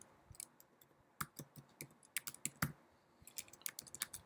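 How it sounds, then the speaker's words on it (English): A computer keyboard clacks as an activation code is typed during a software installation, with quick, irregular key presses close up and fairly quiet, no voices. "Now you're going to type in your activation code"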